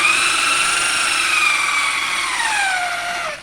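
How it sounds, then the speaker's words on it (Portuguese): Electric drill spinning a grater against an ear of corn, a steady high whirring drone with layered tones that holds evenly and then dips slightly in pitch near the end, close by with no talk. "Pra quem gosta de ralar milho no ralo e tem medo de ralar os dedos, fica furadeira"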